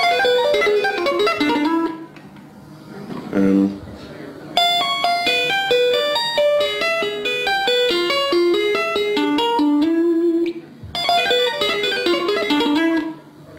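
Rapid electric guitar tapping notes race in a bright, shimmering pattern, with short chunks of the same lick bracketing a faster middle run.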